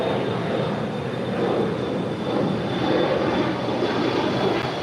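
Air Canada A330-300 airliner just after landing on runway 25L at LAX, a loud steady roar of engines and rushing air with a faint high whine, continuous and unbroken.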